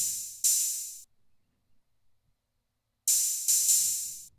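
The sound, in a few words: open hi-hat pattern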